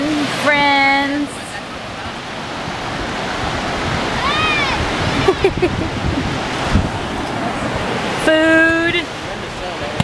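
Ocean surf at a beach on South Padre Island rolls as a continuous wash of waves and wind noise, with voices and a short musical or electronic tone heard briefly over it.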